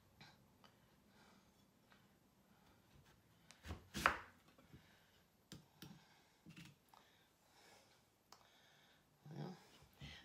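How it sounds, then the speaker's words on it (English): A big knife cuts open a turnip that is slightly pithy inside. One sharp, loud chop stands out near the middle, with scattered lighter knife taps and board knocks around it and no talking. "I'm gonna cut this open. Get a bigger knife."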